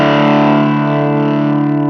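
An electric guitar played through a Gibson Les Paul into a Limetone Audio fuzzhog fuzz pedal gives a loud, thick, sustained fuzz-distorted chord that rings steadily for two seconds with a slight wavering texture.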